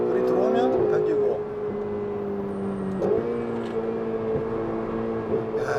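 Ferrari 488 GTB engine drones steadily, pitch stepping up and dropping at gear shifts on a run at Inje, heard from inside the cabin while someone talks over it.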